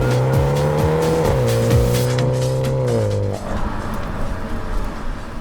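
BMW M135 accelerating hard at full power, a loud close engine note climbing steadily through gears with rising tones and brief dips at each shift, then settling into road roar.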